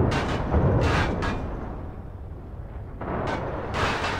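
Weapon fire in the space game Star Citizen, with heavy booming blasts in two bursts separated by a brief lull, loud and close over a deep rumbling background.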